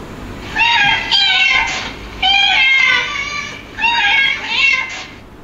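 Several cats meowing in a run of drawn-out, rising and falling cries, three clustered bursts close by with short quiet gaps between them.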